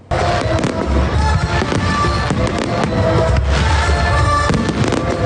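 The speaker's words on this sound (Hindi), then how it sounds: "स्कॉटलैंड के शहर डंडी के बॉक्सटर पार्क और लोकी पार्क में रंगारंग आतिशबाजी ने आसमान को गुलनार कर दिया।" Fireworks explode over Baxter Park and Lochee Park in Dundee, Scotland, during the annual 5 November display: dense, loud, continuous crackling bursts and booms layered over one another throughout, with no talk.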